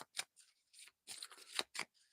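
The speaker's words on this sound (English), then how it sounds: "let's do a little card shuffle here" A deck of cards is shuffled up close in short, crisp bursts of riffling and snapping, separated by brief pauses, quiet and without voices.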